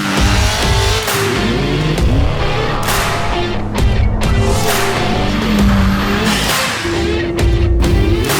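A Ford OBS Powerstroke diesel truck drives along, its loud, steady engine drone and road rumble filling the cabin throughout, with slight shifts in pitch as it moves.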